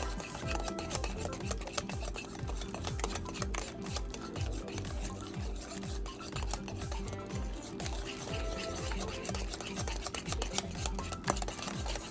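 Butter and sugar are whisked by hand in a bowl, a rapid rhythmic scraping and tapping that repeats steadily and stays fairly quiet and close.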